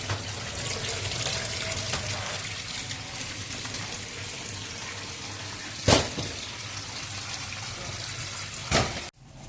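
Water from cooked rice drains through a filter in a steady rushing pour, fairly loud and close, with a couple of brief sharper splashes near the end.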